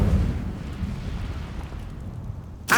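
Incendio fire spell in the Hogwarts Legacy video game, a deep rumbling burst of flame that starts loud and steady, eases slightly, then a sharp crackling flare at the end.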